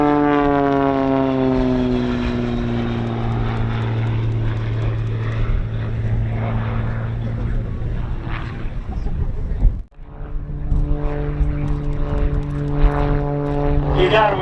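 A propeller airplane roars loudly and continuously during a photo pass at a World War II Weekend airshow, its steady harmonic drone dipping briefly near the end before surging back.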